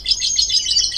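A female songbird in heat chirps in a continuous, close, high-pitched trill, loud and alone.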